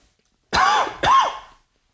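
Two sharp coughs close by, one right after the other, then quiet.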